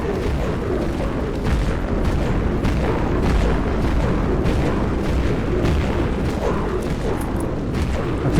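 The Valkyrie explosive weapon fires in Dead Frontier, giving a continuous dense roar of booming blasts and rumbling detonations. The noise stays loud and steady for about eight seconds with no clear gaps.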